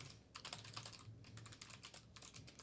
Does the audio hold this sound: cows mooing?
no